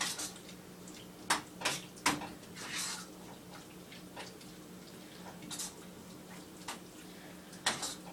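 Food being stirred in a pot for tostadas, with a few sharp metallic clinks and scrapes of a utensil against the pot over faint background noise, sparse and close.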